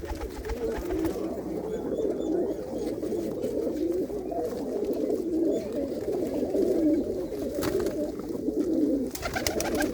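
Many pigeons coo continuously in a low, throaty chorus, close and steady throughout, with no talking.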